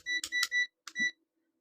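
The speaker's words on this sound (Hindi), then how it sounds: "बज़र मिल जाती है" A digital multimeter's buzzer sounds three quick, sharp electronic beeps, close and clear against silence.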